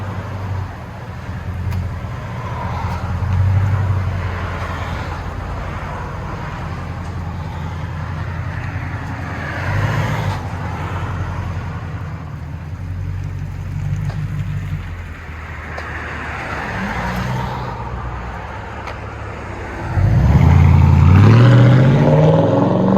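A Toyota Tundra 5.7L V8 pickup with aftermarket exhaust rumbles deep and throaty nearby, surging in revs a few times and roaring loudest at the end; no talking.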